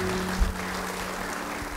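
A church congregation applauds during a sermon, a short, steady wash of clapping with a steady tone running beneath it.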